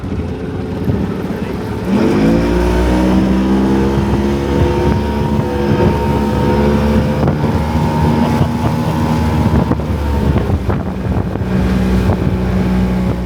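A 2-stroke outboard motor fires up from a dead start at about two seconds and settles into a loud, steady, crisp run close by, its buzzing drone holding for the remaining seconds with slight shifts in pitch.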